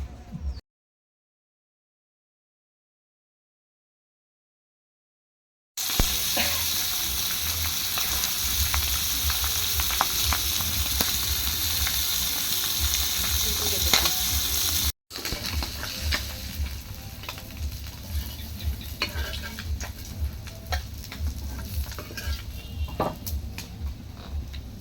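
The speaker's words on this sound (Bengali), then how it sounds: "এখন হলো মাছটা ভাজবে" Pieces of katla fish fry in a pan of hot oil, giving a loud, dense sizzle close by. It starts after a short silence and continues steadily, with a brief break partway through.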